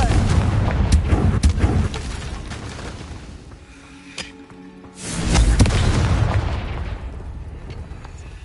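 Confringo fire spell blasts in Hogwarts Legacy, heavy booming explosions: a loud burst at the start decaying over a couple of seconds, a quiet gap with a small pop, then a second big blast at five seconds rumbling out.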